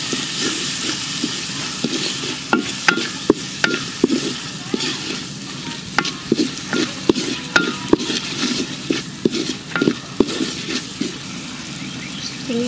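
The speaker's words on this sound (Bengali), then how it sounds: "চিংড়ি মাছগুলো ভালো করে কষাই নিতেছি।" Shrimp frying in a pan while being stirred, giving a steady sizzle broken by repeated scraping and clattering strokes of a utensil, close and fairly loud, with no talking.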